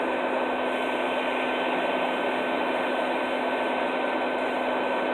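A vacuum roars steadily, drawing baldfaced hornets out of a large, thick-walled nest in grass, with a constant loud whine and no pauses.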